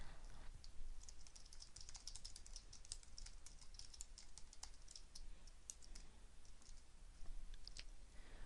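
Quiet, steady typing on a computer keyboard, with rapid light key clicks in an uneven rhythm throughout and no voices.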